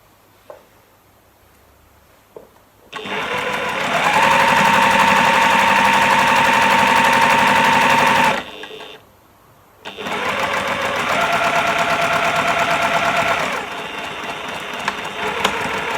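A domestic sewing machine stitches strips of a wonky log cabin quilt block in two steady runs of rapid mechanical whirring, separated by a short pause, close and loud.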